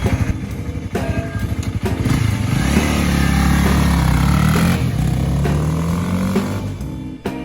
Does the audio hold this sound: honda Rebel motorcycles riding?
yes